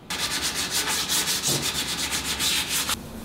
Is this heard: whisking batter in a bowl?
no